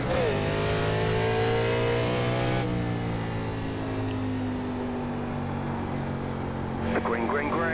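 A 1987 NASCAR Legends stock car in the iRacing sim, racing at North Wilkesboro Speedway, holds a loud steady engine drone that climbs in pitch and shifts, with other engines buzzing nearby, alongside a talking voice.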